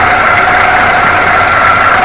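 A 1976 Chrysler Cordoba's big V8 runs at a steady idle, a loud, even, continuous engine drone close to the listener.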